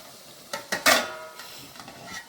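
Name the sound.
prawn masala simmering in pan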